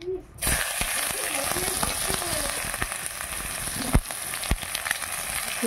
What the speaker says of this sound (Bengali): এবার তেলের উপরে দিয়ে দিচ্ছি পেঁয়াজ কুচি